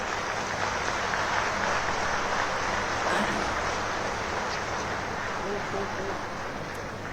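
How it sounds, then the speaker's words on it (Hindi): Convocation audience clapping in a large ceremony space, a broad continuous rush of many hands heard at a distance, fairly even and moderately quiet throughout. "इसीलिए थोड़ा थोड़ा ताली बजाओ"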